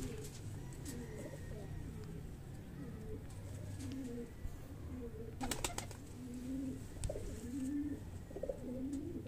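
Faint, soft coos from a high-flyer breeder pigeon repeat every second or two over a low, steady background hum with occasional clicks.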